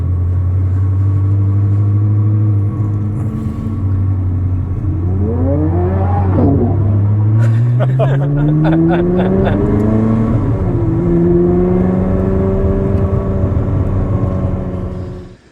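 A Ferrari engine hums steadily as the car drives, rising in pitch as it accelerates through gears, with a constant close cabin rumble.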